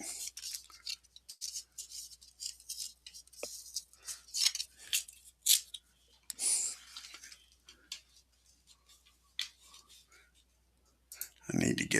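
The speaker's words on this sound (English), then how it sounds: "Make a mess here. Tear some cards up." Trading cards are torn and crumpled by hand in a series of sharp, scattered ripping and crinkling bursts, close and quiet, with a voice speaking in between.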